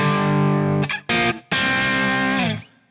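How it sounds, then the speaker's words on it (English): A distorted electric guitar is plucked with the middle and ring fingers rather than a pick. It plays loud sustained power chords with brief choked gaps between them, giving a percussive attack. "use your middle finger and ring finger to pluck the strings"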